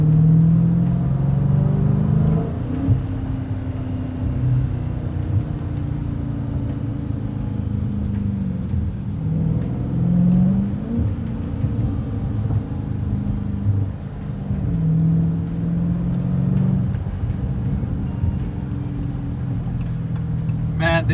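A Dodge Challenger Widebody with a 6.4-liter engine drives in the rain, its low exhaust rumble swelling in several throttle surges and easing back between them, heard from inside the cabin.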